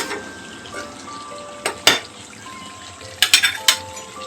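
Rayalaseema-style chicken fry cooks dry in a pan on a low flame, a steady soft sizzle running throughout, broken by a few sharp metallic clinks of a spatula against the pan.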